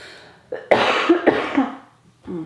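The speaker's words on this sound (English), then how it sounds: "I still have a cough." A person coughs several times in quick, harsh bursts at close range, followed by a short throat-clearing sound.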